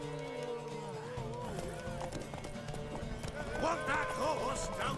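Horse hooves galloping in The Witcher 3 video game: rapid rhythmic clip-clop with horse whinnies and snorts, under game music and a voice talking, fairly loud and close.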